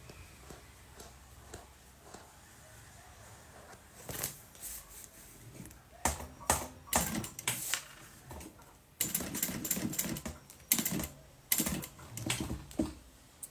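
A sewing machine stitches silicone in several quick clattering bursts with brief pauses between runs. The bursts grow louder and denser toward the end against a quiet room.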